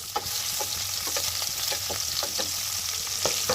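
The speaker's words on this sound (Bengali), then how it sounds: "পেঁয়াজটাকে আমি লাল করে ভাজতে দিলাম।" Chopped onion fries in hot oil with a steady close sizzle, broken by regular scraping stirs of a spatula in the pan, for a Bengali matar chicken dish.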